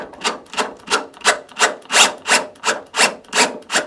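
A clamp is tightened on a part of a Kangoo van, producing about ten loud, close rasping rubs in a steady, even rhythm, one every half second or so, with no voices.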